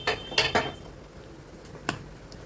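A few metallic clanks and scrapes of a pressure cooker lid being worked loose after cooking mutton gravy, several quick knocks then one more clank after a pause.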